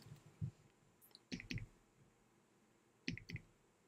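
A computer mouse double-clicks on an image: one faint single click, then two crisp double-click pairs spaced apart, quiet and close in a silent room.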